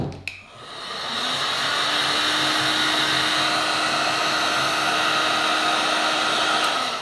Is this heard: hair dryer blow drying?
yes